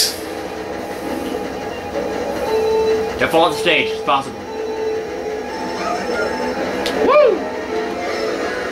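A train in Mario Kart 8 rumbles steadily with rail clatter and a couple of squealing wheel or horn-like sweeps, while people talk excitedly over it.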